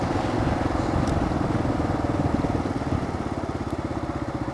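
A KLR 650 or DR 650 dual-sport motorcycle riding at speed, around 70 to 75 miles an hour, with a loud, continuous engine drone and rumble mixed with steady wind roar, close and unbroken throughout.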